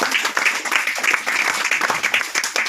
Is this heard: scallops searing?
no